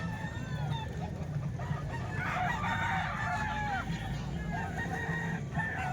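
Roosters crow and chickens cluck among birds for sale, with several calls overlapping at moderate distance over steady outdoor background noise.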